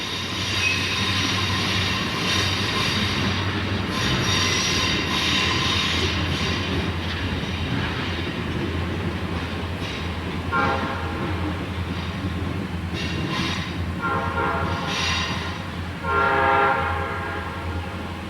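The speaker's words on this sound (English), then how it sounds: "Ed recorded the 3 EMD SD40 series locomotives descending the grade for Melrose" Three EMD SD40-series locomotives descend Saluda Grade, their engines a steady heavy rumble throughout, with metallic wheel and rail squeal and ringing tones building in the later seconds.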